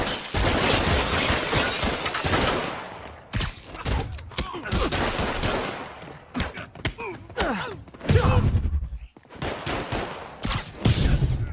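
Criminals open fire in Spider-Man Remastered, with scattered gunshot bursts, shattering impacts and thuds piling up in a chaotic fight, loud and close, with shouted voices mixed in.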